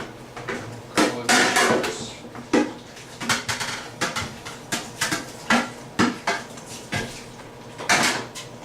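Ceramic dishes and utensils clatter and clink in a home kitchen while preparing a vinegar salad with cabbage and carrots, a close, irregular series of sharp knocks and scrapes with no talking.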